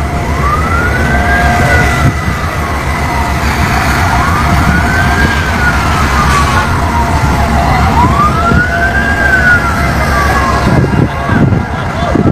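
A fire truck siren wails in repeated rising-and-falling sweeps at an airport fire at NAIA Terminal 3, loud and steady over heavy engine and crowd rumble, with voices mixed into the din.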